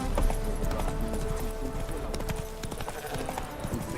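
Horse hooves clip-clop in the video game Witcher 3, a quick, steady trot of hoofbeats close by, heard over faint game ambience.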